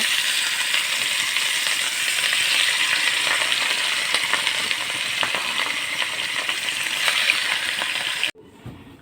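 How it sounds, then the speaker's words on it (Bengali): Rohu fish pieces fry in hot oil in a frying pan with a loud, dense sizzle and crackle that runs steadily up close, then cuts off abruptly near the end. "এখন আমি মাছগুলো দিয়ে দিব ভাজার জন্য।"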